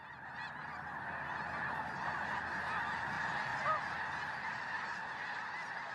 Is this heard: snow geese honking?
yes